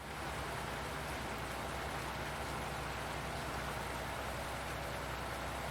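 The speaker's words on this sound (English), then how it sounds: "All you can hear is the sound of the rain." Steady rain in the game Farming Simulator 19 hisses evenly throughout, a dense, continuous patter with no voices or other sounds.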